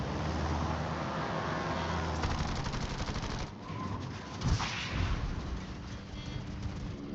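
Rocket planes strafing a ship in World of Warships, a dense rattling barrage of rapid impacts, steady and moderately loud, with heavier thuds toward the end.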